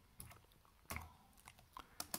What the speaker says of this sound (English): And I'm typing this one-handed around the camera.